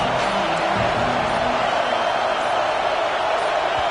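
Stadium crowd in a college football video game roaring in one steady, loud, unbroken wall of noise.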